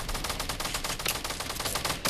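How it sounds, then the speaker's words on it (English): Rapid automatic gunfire from a shooter video game rattles on continuously for about two seconds, a dense, loud and close stream of shots with no talk. "Oh, they're shooting the base right there."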